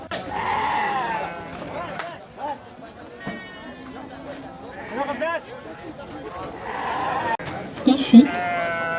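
Sheep and goats bleat at a Sunday livestock market on the Silk Road in China's Gansu and Xinjiang, wavering calls near and farther off amid crowd murmur and shuffling hooves.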